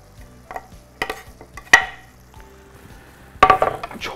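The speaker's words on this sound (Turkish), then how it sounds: "Çok hafif karıştıracağım." Chopped parsley stirred gently in a pan with cooked eggplant for imam bayıldı, giving soft scraping strokes and a few sharp utensil clinks over a faint sizzle.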